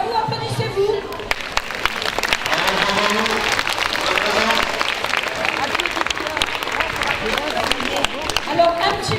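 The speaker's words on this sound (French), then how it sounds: "Un grand merci à vous, applaudissez-vous." Sustained audience applause with crowd noise at a Téléthon 2014 charity lotto in Villemomble, dense clapping continuing for several seconds under faint voices.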